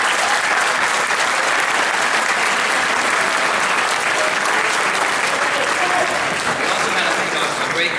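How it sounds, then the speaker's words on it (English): A scholarship ceremony audience gives teachers loud, sustained applause, a thick wash of clapping that stays strong and steady throughout, with faint voices mixed in. "I really think we need to give the teachers a round of applause"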